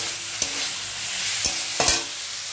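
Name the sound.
ridge gourd being sautéed with spices in a pan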